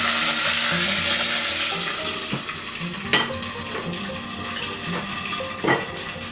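Ginger and garlic fry in hot oil in a pan for a ridge gourd curry, a steady loud sizzle with occasional metal spoon scrapes and clinks, close up and without speech.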